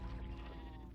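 A Minecraft sheep gives a single short bleat, close and clear, lasting about a second.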